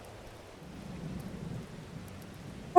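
In the Farming Simulator 22 video game, rain falls in a soft, steady hiss with a low rumble of thunder swelling slightly midway, and a sharp sound cuts in right at the end.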